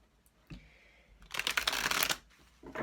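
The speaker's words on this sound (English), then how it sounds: "As always, I shuffle live." Energy Oracle cards shuffled by hand during a tarot-style reading, a soft riffling and brushing of card stock in a couple of short bursts, close and fairly quiet.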